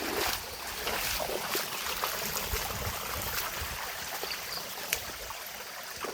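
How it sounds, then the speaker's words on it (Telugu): Rainwater from a heavy overnight downpour in Chintamani taluk rushes across the ground toward a tank, a steady, close, unbroken wash of flowing water with no voices. "చూడన్నా ఎట్లా వస్తున్నాయి నీళ్ళు"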